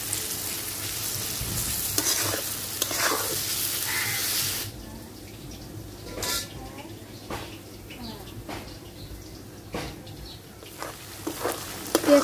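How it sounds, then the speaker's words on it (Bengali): Chopped onion fries in a pan until reddish, with a loud, dense sizzle that drops to a quieter crackle partway through, broken by stirring scrapes and some background voice. "পেঁয়াজটা লাল লাল করে ভাজা নিছি,"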